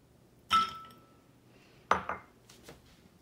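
Ice cubes clatter into a blender jar for an aloe vera avocado smoothie, two separate bright clinking drops with a short rattle after each, close and fairly loud in an otherwise quiet kitchen.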